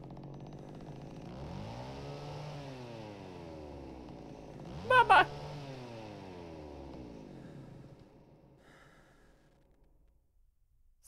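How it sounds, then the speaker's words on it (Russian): A chainsaw in the horror game Cry of Fear revs in repeated rising and falling whines over about eight seconds, with a brief sharp clatter in the middle, then fades out, fairly loud and alone. "Вот этот звук бензопилы."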